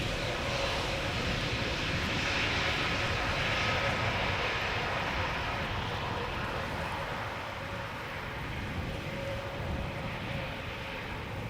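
An Air Transat airliner at Amsterdam Schiphol Airport gives a steady, broad jet roar that holds level throughout and eases only slightly near the end, with no voices.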